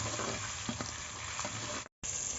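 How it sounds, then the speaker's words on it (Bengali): Pointed gourd (potol) fries in oil with a dense, even sizzle as it is stirred, with faint scrapes and a short cut to silence just before the end. "পটলটাকে আমি নাড়াচাড়া করে ভেজে নেব"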